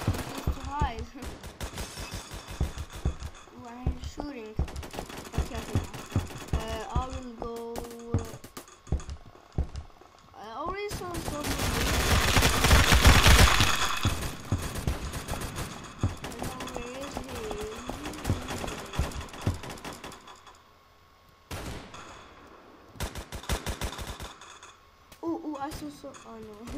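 Roblox Phantom Forces gunfire in sharp, rapid bursts of automatic shots, with a loud sustained stretch of firing midway, then scattered shots near the end, mixed with game sound effects.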